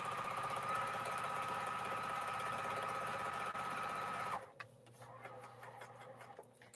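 Sewing machine stitching crumb quilt blocks, a loud steady mechanical whir with a constant hum for about four seconds before it stops abruptly, followed by faint clicks and handling noises.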